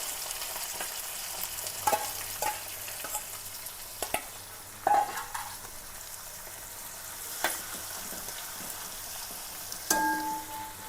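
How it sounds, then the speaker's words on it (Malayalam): Finely chopped onion and curry leaves frying in hot oil in a pan, giving a continuous crackling sizzle with occasional sharper pops and spatula scrapes, close up with no voices. "ഇതിലേക്ക് സവാളയാണ്, സവാള കൊത്തി അരിഞ്ഞതാണ്"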